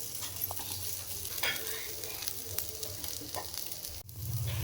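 Paneer tikka cooks in ghee in a pan over a medium flame with a steady close sizzle, overlaid by occasional stirring scrapes and a soft clack near the end.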